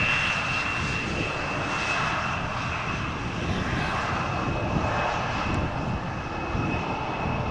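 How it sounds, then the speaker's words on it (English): A KLM Embraer 175 jet arriving at Amsterdam Schiphol Airport produces a loud, steady engine roar with a faint high whine, continuous throughout and not broken by any talking. "Embraer 175 arriving from Darlington, by the way, KLM flight"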